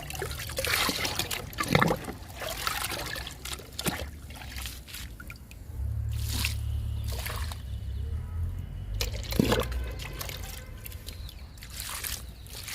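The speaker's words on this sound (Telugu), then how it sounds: "ఇప్పుడు రెండు మొక్కలకి లిక్విడ్ ఇచ్చేద్దాము" Flowering liquid poured into plant pots: steady trickling and splashing of liquid that swells louder midway, close by with faint background noise and no talking.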